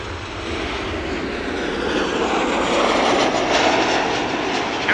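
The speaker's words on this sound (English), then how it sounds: "Emirates A380 in the meantime, flying north of us, east to west" Emirates Airbus A380 passing overhead at Amsterdam Schiphol, a steady broadband jet roar that swells slightly as it flies by at a distance, continuous for several seconds with no talk.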